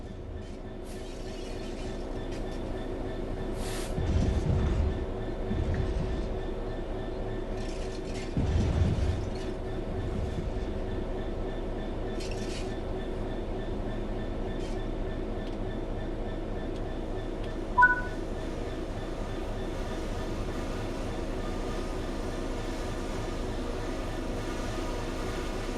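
A train runs steadily in the Train Sim World 4 video game, a low continuous rumble and hum with a couple of heavier surges early on and faint rail clicks, a short tonal chirp near the end.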